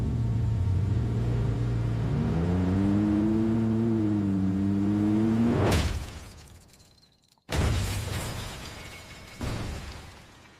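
Generated car engine sound from a rendered vehicle scene: a steady low rumble with rising revving tones, then a sharp burst, a brief near-silent gap, and the rumble returning.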